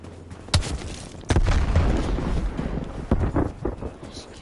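A Semtex grenade detonates in Call of Duty Warzone with a loud, heavy boom, followed by rumbling game noise and further thuds and blasts in a busy firefight.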